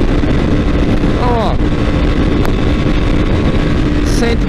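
Loud, steady wind roar and engine drone from a BMW G310GS motorcycle cruising at 140 km/h in sixth gear, continuous throughout with a person talking over it.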